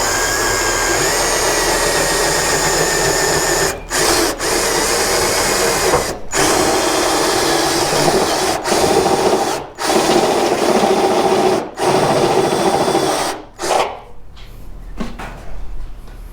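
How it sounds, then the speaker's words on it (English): Power drill boring into the body of a Mazda 929 wagon during a guard mirror fitting, heard up close as a loud, steady whirring grind broken by several short pauses, with no talking. "So what we're going to do now is start drilling."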